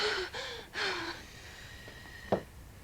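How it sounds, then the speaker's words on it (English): Slow, deep breaths demonstrated during a labour scene, a few audible inhales and exhales with soft breathy hiss, close and fairly quiet, ending in a short sharp breath. "That should be deep breaths, hmm? Like this."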